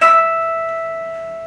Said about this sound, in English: That's the sound of a harmonic,